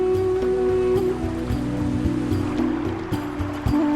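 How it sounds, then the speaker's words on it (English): A river rushes steadily over ancient carved stone linga in its rocky bed on a sacred mountain of the Khmer Empire near Angkor, a loud, continuous wash of water with a low sustained tonal hum running beneath throughout. "The river here flows over other sacred icons."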